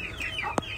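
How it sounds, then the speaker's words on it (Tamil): A chicken in a home garden coop gives a short, faint cluck with a brief sharp note, heard close and alone. "ஐயோ, கோழியை பாருங்க. இது சேவலா?"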